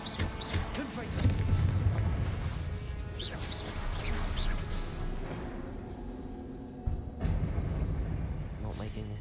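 Confringo blasting spells going off in Hogwarts Legacy, a run of booming explosions and impact crashes through combat with game effects, while a player shouts spell names over the action.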